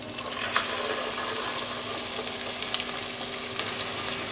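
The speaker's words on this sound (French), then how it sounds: "Donc nous allons faire comme ceci avec la pâte et la pousser dans l'huile de friture." Sonho dough, Portuguese Christmas fritters, drops into hot frying oil and sizzles with a steady crackling hiss and scattered sharper pops, moderately loud and close, with no talking.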